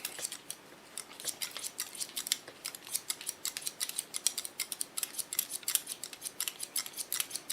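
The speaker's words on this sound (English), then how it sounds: "take the hair up and create myself the line I want to cut" Scissors snip steadily through hair along the neckline in a haircut, giving rapid, crisp, close clicks in an even rhythm with no talking.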